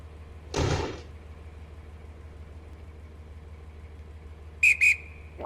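In the Roblox game Stepford County Railway, a train guard's doors slide shut with a short burst of noise, then a few seconds of low engine hum before a loud, shrill guard's whistle blows twice in quick succession.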